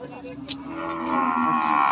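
Cattle at a livestock market low in a sustained, loud moo lasting about two seconds, rising slightly in strength toward the end.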